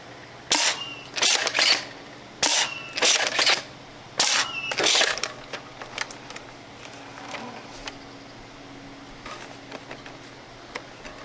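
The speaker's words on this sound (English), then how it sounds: "I have not fired it with Mega in a while, so let's see how it does." A toy foam dart blaster fires Mega darts in a quick burst of sharp plastic pops and mechanical clacks, several shots close together early on, then fainter clicks and handling noises as the firing tapers off.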